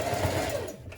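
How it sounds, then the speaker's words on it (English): A sewing machine runs a short, fast burst of stitching along a diagonal seam on a vest, the motor whirring steadily and close up for about a second before slowing at the end. "from here going downwards we're going to sew in a diagonal just here"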